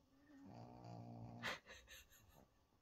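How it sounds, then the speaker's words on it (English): A dog snores softly up close, a low rumbling breath followed by a few short snuffling exhales. "I think it's so cute when she snores"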